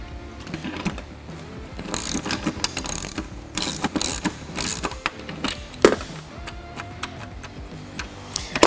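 Metal hardware clicking and ratcheting as a nut is threaded onto a bolt for a rooftop tent bracket during assembly, with irregular close taps, scrapes and handling noise and no talk.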